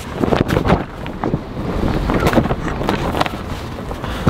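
Strong gusts from a winter storm batter a van, thumping and roaring against the microphone in loud, uneven surges that rise and fall, with no voices.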